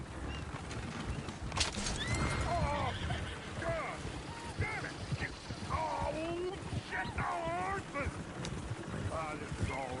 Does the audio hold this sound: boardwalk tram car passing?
no